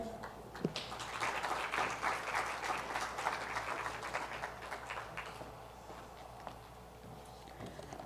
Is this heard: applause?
yes